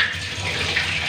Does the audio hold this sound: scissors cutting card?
no